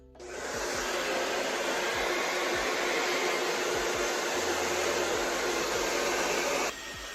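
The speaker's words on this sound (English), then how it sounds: "I filmed a video of me blow drying my hair" A hair dryer blows steadily at close range, a loud continuous whooshing roar that shifts slightly in tone just before the end.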